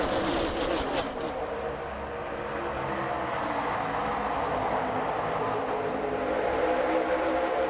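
Xfinity Series race cars accelerate through the tri-oval at Daytona toward turn 1, a dense, loud, continuous engine roar that swells slightly as the pack passes, with no clear speech over it.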